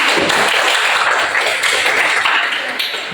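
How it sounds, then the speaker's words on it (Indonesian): A seated audience at a group presentation applauds in a dense, continuous burst of clapping that stays loud throughout and eases slightly at the end. "Tepuk tangan dulu buat kami"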